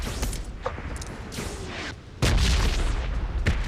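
Gunfire in a video game comes in loud, punchy bursts with rapid shots and booming reports, growing heavier and denser in the second half.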